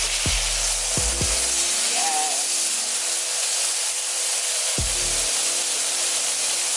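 Steak searing in a hot pan, a steady loud sizzle running throughout with a few brief low knocks from handling the meat, no talking.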